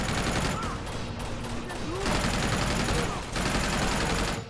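Rapid gunfire crackles in a shootout in the video game Uncharted 2: Among Thieves, loud, dense bursts that keep going with short pauses, and game effects sound faintly under them.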